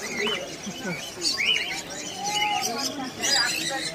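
Budgerigars and their chicks at a bird market chirp and twitter in quick, overlapping bursts throughout, with a low murmur of voices underneath.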